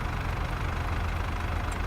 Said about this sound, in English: There's a Fent just sitting here idling at the shop.